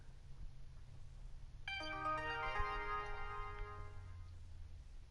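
A muted mobile phone still plays its ringtone, a bright run of chiming electronic notes that starts suddenly and rings on for about two seconds. It sounds soft and slightly distant over a low steady hum.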